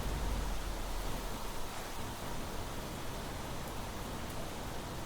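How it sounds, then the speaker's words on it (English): Rain falls in the video game The Planet Crafter on a beach, a soft, steady hiss of downpour that stays faint and even throughout with no voices. "Like the rain might be letting up."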